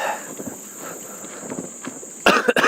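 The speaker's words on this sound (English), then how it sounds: "Excuse my cough." A short burst of coughing from a person recovering from a cold outdoors in a nature park, two quick loud coughs near the end after a stretch of faint rustling and footsteps.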